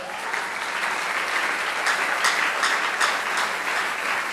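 A church congregation claps steadily at a worship service, a dense, even wash of applause that stays fairly loud and close throughout, with no voices standing out above it.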